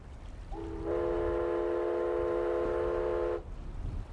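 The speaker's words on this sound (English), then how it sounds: "Okay, that's a choo-choo train." A train horn or whistle in the Myst video game sounds as a sustained harmonic chord, swelling in around half a second and holding steady for nearly three seconds before cutting off, heard alone over a low ambient rumble.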